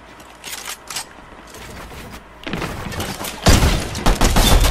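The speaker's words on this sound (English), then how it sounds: "I just got hit with a bullet" Bursts of gunfire in Fortnite Chapter 5 Season 1, with scattered shots early on that build into louder, denser volleys toward the end.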